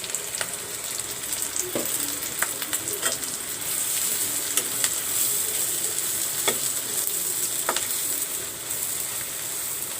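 Ground turmeric, cumin, coriander, panch phoron powder and salt sizzling steadily in hot oil in a pan, with a constant close hiss broken by scattered scraping stirs and taps.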